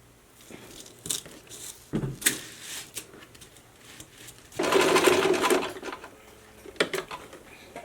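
A sewing machine stitches a prom gown in one loud, steady burst of about a second near the middle, with quieter fabric-handling clicks and rustles before and after.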